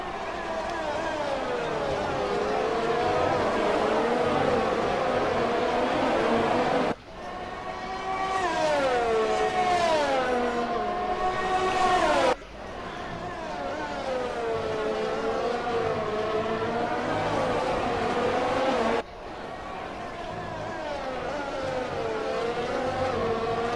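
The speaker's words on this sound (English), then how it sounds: "I love listening to the cars." Formula 1 race cars in the video game F1 2020 at the Russian Grand Prix scream past with high, sweeping engine whine that rises and falls through gear changes, loud and continuous, with abrupt shifts between onboard views.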